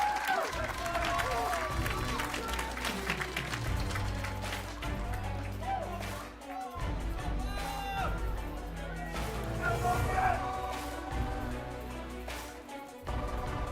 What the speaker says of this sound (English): Love how the crowd is getting hyped up for this one.